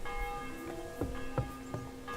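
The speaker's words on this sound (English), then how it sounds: "Bell's ringing for Hans the 5th time." A church bell in the medieval video game Kingdom Come: Deliverance 2 tolls several times in slow succession, each ringing strike fading into a lingering metallic hum, faint and somewhat distant.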